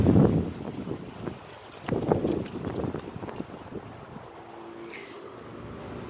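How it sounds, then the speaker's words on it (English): Outdoor wind gusts buffet the microphone, with heavy rumbling bursts at the start and again around the middle before settling into a steadier, softer rush. "now we have wind."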